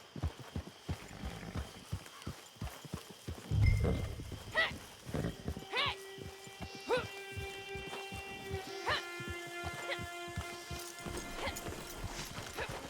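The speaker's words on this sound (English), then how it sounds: "Get your horse." A horse in Red Dead Redemption 2 clops along steadily at close range, giving one loud snort and a whinny partway through, with light music and faint ambience beneath.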